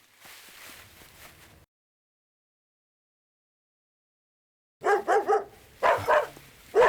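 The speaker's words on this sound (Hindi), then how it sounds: "अपने डॉग्स भी वही देख करके भौंक रहे हैं।" Dogs bark in a quick cluster of loud, close yaps after a stretch of silence, preceded by a low muffled rumble.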